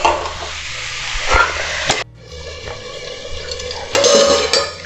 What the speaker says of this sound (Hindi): इसको हम अच्छी तरह मिलाएंगे और थोड़ी आंच को मीडियम से थोड़ा ज़्यादा करके और थोड़ी देर तक हम इसको भूनेंगे